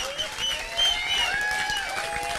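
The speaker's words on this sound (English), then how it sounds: "So give her the biggest ever round of applause" Crowd applause with some cheering at a surf film festival, honoring a young surfing champion; clapping runs throughout, partly masked by whistles and other crowd noise.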